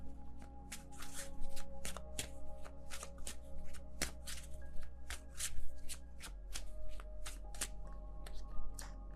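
Tarot cards being shuffled by hand during a card reading, a steady run of crisp riffling snaps and flutters, close and fairly loud, over a low constant hum with no talk.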